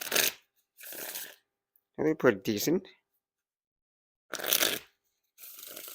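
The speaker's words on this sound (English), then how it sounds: "So the more you shuffle them, the more they're breaking and get even smoother." Dan and Dave Deck Starter playing cards are shuffled close up in several short riffling bursts, with a brief spoken remark between them.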